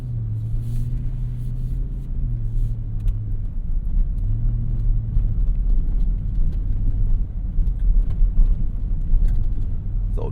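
A 2024 Ford F150 Raptor R drives onto a badly broken, rough road. A deep, steady engine drone and tyre rumble fill the cab, with low thuds and rattles growing as the truck crosses the bumps.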